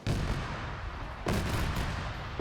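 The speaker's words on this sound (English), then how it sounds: "Just have a barrage of autocannon fire coming in" Sustained barrage of autocannon fire in a one-life PvP military shooter, a dense rumbling roll of heavy rounds that swells again midway, loud and close with no talk.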